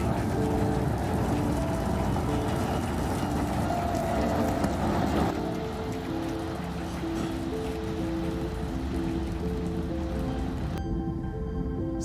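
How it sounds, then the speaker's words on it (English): A SpaceX Starship rocket lifts off with a dense, steady, loud roar that fills the whole clip, overlaid by sustained tonal notes, and it thins out sharply near the end. "We have liftoff."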